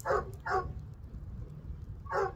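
A dog barks during play in a few short, sharp bursts: two quick barks close together, a pause filled with low rumbling background, then one more bark, moderately near.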